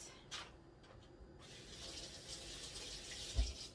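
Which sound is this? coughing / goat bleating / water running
water running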